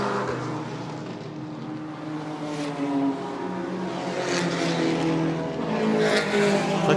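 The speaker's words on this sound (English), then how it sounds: "There's the two BMWs behind them, the two grey BMWs, Linton and Ellery." Grey BMW race cars circle a racing track, a loud sustained engine drone with shifting pitch and passing swells, heard from trackside without a break.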